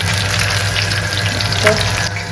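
A steady, loud sizzle of fish shallow-frying in hot oil in an iron wok fills the whole stretch, a dense crackling hiss without speech.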